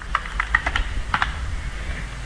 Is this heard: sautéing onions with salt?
no